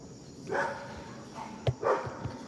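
Dogs bark near a backyard scrap-metal pouring area with a furnace, giving a couple of short, moderately loud barks with a sharp knock between them.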